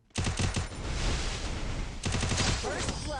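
Rapid automatic gunfire from the Free Fire mobile battle royale game, with a dense burst of shots, a brief lull, then another volley up close.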